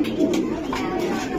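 A racing pigeon coos in a short burst over a dense, steady background, with murmured voices mixed in close by.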